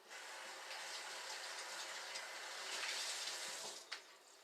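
Warm water runs steadily from a kitchen tap onto a towel being wetted for wrapping bread dough, a continuous close hiss that swells slightly before cutting off near the end with a brief clunk.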